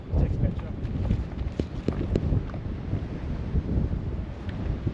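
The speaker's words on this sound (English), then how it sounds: "I know it's a bit windy, guys, so I do apologise for the wind." Strong wind buffets the microphone on a boat at sea during UK sea fishing, a constant loud low roar with gusty swells that runs through the whole stretch.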